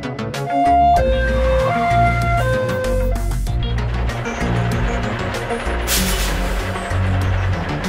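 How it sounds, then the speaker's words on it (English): A fire chief's vehicle sounds a stepping two-tone siren up close, followed by a sustained rushing engine roar. "Fire chief's vehicle."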